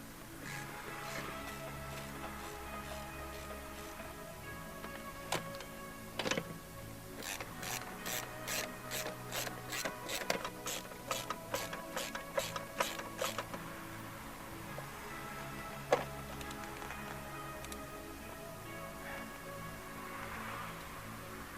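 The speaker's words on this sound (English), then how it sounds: "Now I just need to screw the seat in." A hand ratchet is used to screw a car seat into a Peugeot, producing a run of quick, evenly spaced clicking strokes at close range, with a few scattered clunks before and after in a quiet interior.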